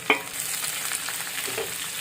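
Boiled cluster beans are tipped into a hot garlic and curry-leaf tempering and stirred, giving a sharp initial splash followed by continuous close sizzling and frying with scraping stir sounds.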